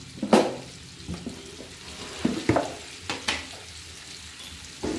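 Baby potatoes frying in a pan over a low flame give a soft background sizzle, broken by several sharp clinks of a utensil stirring against the pan, close and without speech.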